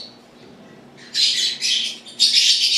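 A young bird recovering from a twisted leg gives three short, bright chirps in quick succession, close and clear against a quiet background.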